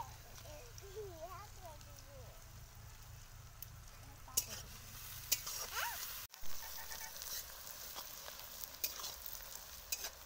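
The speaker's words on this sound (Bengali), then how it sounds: "পেঁয়াজটা একটু ভালোভাবে ভেজে নেব।" Onions fry in a pan while a rohu fish curry is cooked, giving a steady, close sizzle with occasional sharp clicks and scrapes of stirring, and faint voices murmuring in the background.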